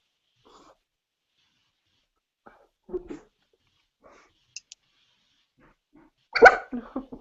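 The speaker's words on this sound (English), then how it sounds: "he's having a bark" A dog gives a few sparse, quiet sounds and then one louder bark near the end, against an otherwise hushed indoor setting.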